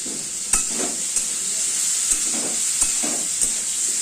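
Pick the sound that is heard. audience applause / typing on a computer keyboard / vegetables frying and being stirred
vegetables frying and being stirred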